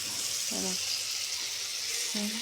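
Tomato and onion cooking in a pan for an egg curry, giving a steady close sizzle throughout with faint bubbling. Two brief voiced sounds rise over it.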